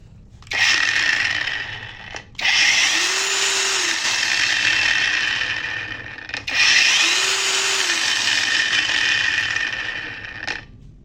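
A cordless 5-inch angle grinder with its disc fitted runs in two long bursts, a loud, rough, high whine spinning up and holding for several seconds each time, close by, with a brief stop between runs.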